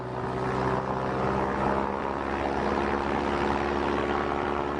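Steady, loud droning hum of the V-173 Flying Flapjack's propeller engines, a continuous buzzing roar without break.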